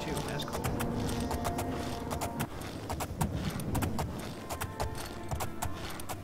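Hooves clip-clop steadily on a horse in the Oblivion video game, a quick continuous rhythm of close, distinct hoof strikes under a faint game background.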